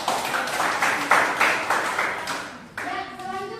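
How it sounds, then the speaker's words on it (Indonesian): A small group claps in a classroom session, rhythmic bursts of hand claps close by that fade out, then a voice speaks briefly at the end. "Ya, tepuk tangan dulu."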